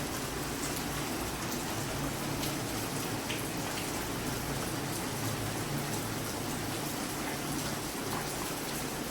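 Steady rain falls during the rainy season in the Dominican Republic, a constant dense patter of drops on surfaces that holds an even level throughout with no voices.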